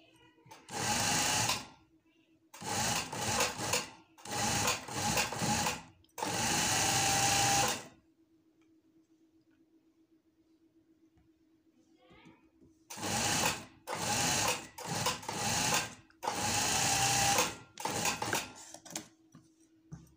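A sewing machine stitches a shirt in four loud bursts, then goes quiet for several seconds while a faint hum lingers, before four more bursts of stitching follow.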